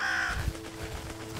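Crows cawing in the video game Röki, a few harsh calls close by over a steady low ambient hum, with no talk.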